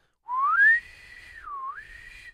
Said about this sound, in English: so what happens when you whistle